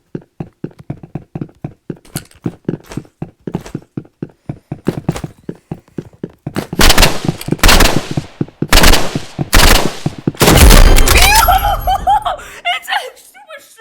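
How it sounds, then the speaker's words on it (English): Sniper rifle shots in the Roblox game Rivals: a long run of sharp, evenly spaced shots, then louder, denser bursts, with a player laughing and chattering over them. "let's test the sniper out"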